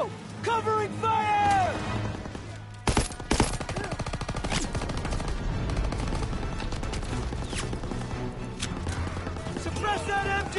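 Dense gunfire from a Call of Duty WW2 Battle of the Bulge mission rattles almost without pause, loud and close, with shouted voices over the sustained volleys and sharp individual shots.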